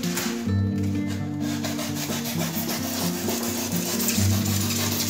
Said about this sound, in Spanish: El cúter lo vamos a acomodar de esta manera y vamos a ir cortando.